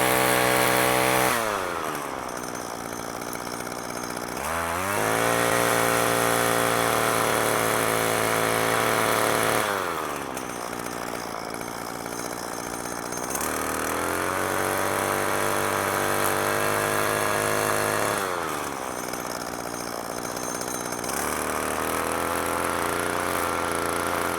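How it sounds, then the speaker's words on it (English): A gas weed eater string trimmer runs nonstop for a long stretch while a lawn is trimmed. Its loud buzzing engine rises and falls several times as the throttle opens and eases off, with no talking. "At this point, your weed eater's usually started, and now you're ready to start on your lawn."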